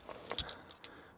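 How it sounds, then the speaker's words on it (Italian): Car keys for an EVO 5 Turbo jangle in a short burst of bright metallic clinks, a few quick rattles close to the mic that fade within about a second. "Tiro fuori la mia chiave, eccola qui."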